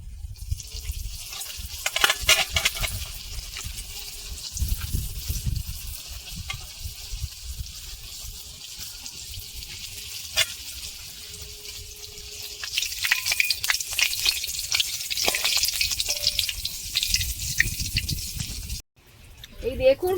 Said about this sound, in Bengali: আমি প্রথম একটা দিয়ে প্যাটিস ভেজে দেখবো ঠিকঠাক হচ্ছে কিনা